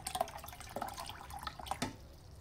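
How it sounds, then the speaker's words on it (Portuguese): Water poured into a cooking pot while preparing a traíra fish recipe, heard as a few separate splashing drips and trickles at moderate distance with no voices. "Vamos colocar a água"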